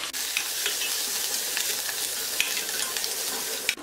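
Curry leaves and garlic stirred in a hot frying pan make a loud, dense, unbroken sizzle close up, with faint spoon taps near the end.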